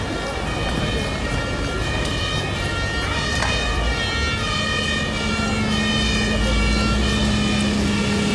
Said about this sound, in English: The fire brigade come to the rescue.